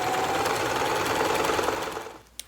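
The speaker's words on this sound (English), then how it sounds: "it's just easier to sew all the way along" A sewing machine runs continuously as it stitches Velcro onto ribbon for an outdoor fabric Bimini top, a fast, even, close mechanical whir that slows and stops near the end with a small clunk.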